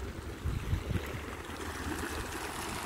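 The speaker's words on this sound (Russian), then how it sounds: "Здесь расположены каскадные водопады." Cascading waterfalls, heard from a high viewpoint above them, give a steady, low roar of falling water throughout, with no talking.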